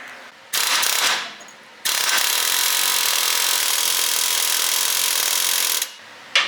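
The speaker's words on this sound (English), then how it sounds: "Let's get up in there with an air hammer and rattle the side of that pitman arm" A loud pneumatic air hammer rattles against the steering pitman arm of a 1978 Lincoln Continental, a short blast, a pause, then a long continuous hammering run before cutting off.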